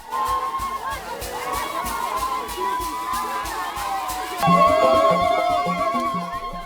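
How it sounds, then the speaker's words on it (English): A village crowd in Bukhalo, Uganda, dances and parades with the boys, with cheering, shouting and chatter mixed with rhythmic sounds, and the noise grows louder midway. "The dancing continued as the crowd paraded off with the boys to more relatives who lived far away."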